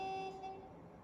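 Train horn in Train Sim World 5, a steady two-tone blast lasting about half a second that then fades into quiet cab ambience.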